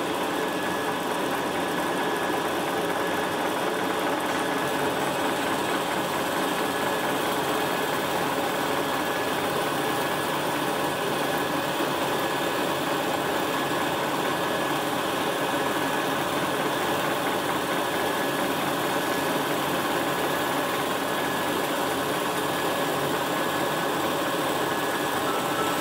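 A milling machine cutter works through plastic parts, giving a loud, continuous mechanical drone with steady vibration that holds unchanged throughout and has no voices over it.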